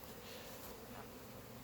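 Honeybees of mixed kinds with different colored queens buzz around their hives in a steady, faint, continuous drone with no voices.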